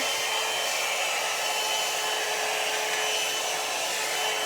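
A hair dryer brush blows steadily while drying hair after a keratin treatment, its loud, even whir holding close and unbroken with no talking.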